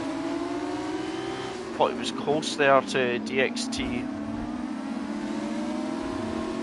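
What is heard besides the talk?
Formula 2 race car engines accelerating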